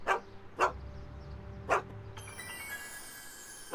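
Einstein the dog barks in the Back to the Future game, four sharp, close barks spaced irregularly across the stretch, with a faint electronic tone entering midway.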